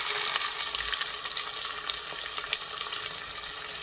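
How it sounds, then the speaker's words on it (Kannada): Chopped onions for chicken biryani hit hot oil with masala, a dense, loud sizzle and crackle that holds steady for several seconds, with a few stirring knocks; no talking. "ಫ್ರೈ ಆಗ್ತಾ ಇದ್ದಂಗೆ ಇಲ್ಲಿ ಕಟ್ ಮಾಡಿ ಇಟ್ಕೊಂಡಿರ್ತಕ್ಕಂಥ ಈರುಳ್ಳಿನ 1 ಕಪ್ ಈರುಳ್ಳಿನ ಹಾಕ್ತಾ ಇದ್ದೀನಿ."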